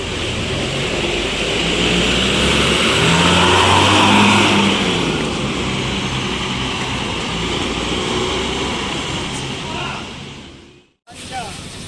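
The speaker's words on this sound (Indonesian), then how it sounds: "ada NPMP 25 dengan gelarnya Manjo yang baru masuk ke terminal ini" A bus engine, an NPMP 25 unit nicknamed Manjo, rumbles loudly and steadily as it pulls into a bus terminal, with a swell around the middle before it fades out near the end.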